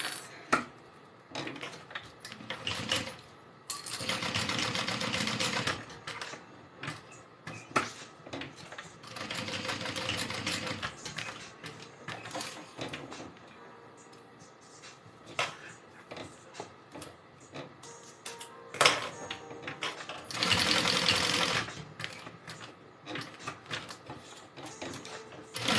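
Sewing machine stitching a panel of a Denver backpack, running in several bursts of rapid whirring stitches separated by pauses with fabric handling and small clicks, close and alone.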